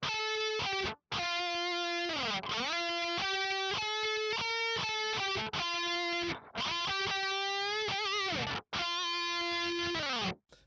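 A distorted electric guitar plays the second chorus lead from a song, a loud sustained melodic line of held and sliding notes, broken by a few short gaps, with no voices.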